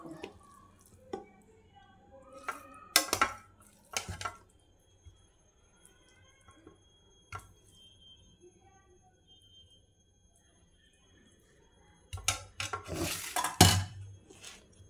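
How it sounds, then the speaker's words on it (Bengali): Spicy soya bean maggi being served from a pan onto a plate: scattered metallic clinks and scrapes of a utensil against cookware come in short clusters, with quieter stretches in between. "নামিয়ে নিয়েছি, এবার আমি প্লেটে উঠিয়ে নেব।"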